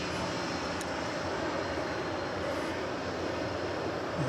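Steady engine roar from an American Airlines Airbus A321 rolling out after touching down at DFW Airport, a constant broadband rush at moderate level with no talk over it.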